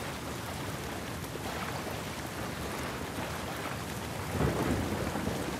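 Thunderstorm with rain in The Last of Us Part II, a steady heavy rain hiss with a deep rumble of thunder swelling louder near the end, no talk.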